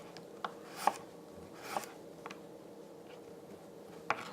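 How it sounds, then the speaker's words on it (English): A kitchen knife slices food into thin slices on a cutting board, giving a few sparse, soft taps and scrapes spaced irregularly and fairly quiet against a faint room background. "We're slicing through the food."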